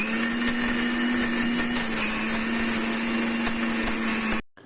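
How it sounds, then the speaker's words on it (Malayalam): A mixer grinder grinds sugar, cloves and cardamom in one loud, steady motor whine lasting several seconds, then stops abruptly. "ഈ ഓയിൽ ചൂടായി വരുമ്പോഴത്തേനും നമുക്ക് പഞ്ചസാരയും ഗ്രാമ്പും ഏലക്ക ഇട്ടിട്ട് മിക്സിയിലിട്ടിട്ടൊന്ന് ചെറുതായിട്ടൊന്ന് അടിക്കാം"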